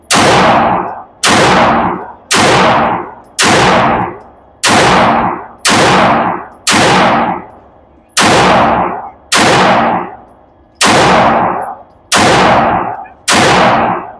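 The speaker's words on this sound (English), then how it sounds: "so we're testing that Tomasie Customs with the 9mm setup" Eleven 9mm pistol shots fitted with a Tomasie Customs slide fire at a steady, unhurried pace at an outdoor range, each a loud, sharp crack with a short decaying tail.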